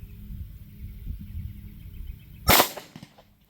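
A single sharp shot from a 9mm Sig Sauer handgun firing 124gr V-Crown ammunition, a loud close crack after a low rumbling background, with a short decaying tail.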